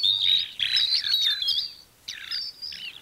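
Birdsong played back from a phone music app: bright, rapid chirps and tweets in two bursts separated by a short pause, clear and fairly close with little else behind them.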